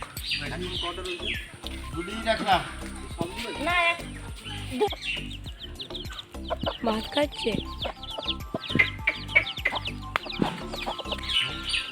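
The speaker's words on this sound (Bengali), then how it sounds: "আর ওই যে দেশিগুলো বাগানের মধ্যে মোরগ" Native chickens and roosters cluck and chirp steadily nearby in a garden while a person talks over them, the bird calls rising and falling throughout.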